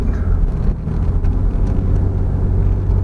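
A car's engine labouring uphill in second gear through S-curves on Devil's Tail Road: a loud, close, continuous low rumble and drone with steady road noise throughout.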